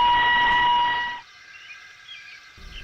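Thomas the Tank Engine's whistle gives one loud, steady peep lasting about a second, then cuts off sharply into quiet near-silence.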